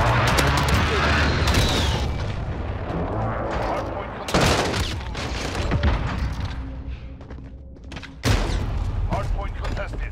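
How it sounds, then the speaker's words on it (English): Precision airstrike in Call of Duty: Modern Warfare, with loud, dense bursts of explosions and gunfire booming in repeated waves, including two sharp blasts, while voices talk underneath. "Precision airstrike inbound."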